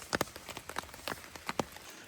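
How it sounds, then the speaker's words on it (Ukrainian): Rain falling in a forest, heard as scattered, irregular drops tapping on leaves and surfaces at close range, with a quiet, steady wet hiss in the background. "Але дощик ще йде"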